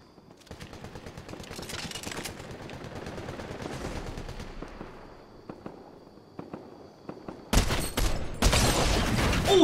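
Rapid gunfire from another team shooting at a fort in the Fortnite video game, dense crackling bursts at middle distance that grow louder and sharper toward the end, with no voices over them.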